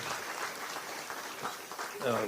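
Applause from a crowd at a Texas gubernatorial campaign stop in Athens, a steady wash of clapping held at an even level throughout, with a voice rising over it near the end.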